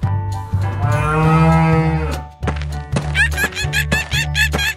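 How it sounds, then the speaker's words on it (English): A cow lets out a long, loud, close moo, followed by a string of shorter bursty animal-like calls and thumps. "Cow."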